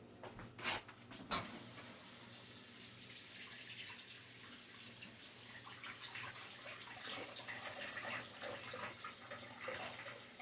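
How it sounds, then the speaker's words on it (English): Tap water runs steadily from a kitchen faucet while hands are washed, a continuous broadband splash with a few louder knocks near the start, close and alone without talk. "let me wash my hands."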